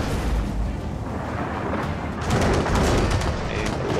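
Dense gunfire and booming explosions in Gears of War 4 co-op campaign combat, loud and continuous, building in intensity in the second half.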